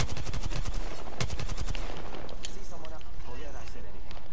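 Rapid bursts of gunfire from the battle royale game Apex Legends, loud and close for the first second and a half, then thinning into scattered shots among other game noise.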